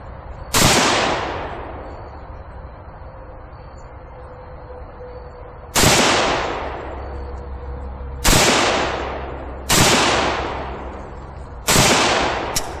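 AK rifle firing single rounds while magazine fit is tested, five sharp loud shots spaced a few seconds apart, each ringing off into a decaying echo.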